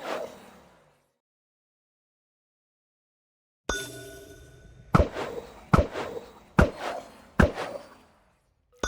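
A short whooshing swell, then silence, then a shimmering magical hum with a series of sharp, ringing impacts in quick succession: Minecraft Eye of Ender sounds from Java Edition.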